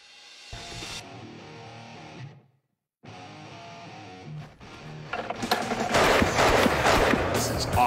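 A Nepalese-made Bir gun machine gun fires in bursts, short stuttering volleys with a brief pause, then a louder, rougher sustained burst, heavily distorted and close.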